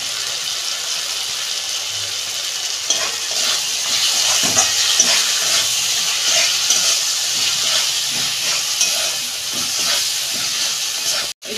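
Spices and garam masala sizzle and hiss in a hot pan while being sautéed for a Bengali cabbage dish with fish heads, a loud steady frying hiss with occasional stirring clicks, no talk.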